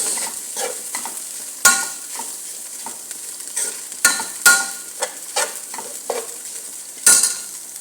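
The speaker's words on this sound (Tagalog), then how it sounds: "i-on na natin yung gisa ng chicken" Chicken sautés for spring rolls in a hot pan, a steady sizzle broken by repeated sharp scrapes and stirs of a utensil against the pan, close and loud.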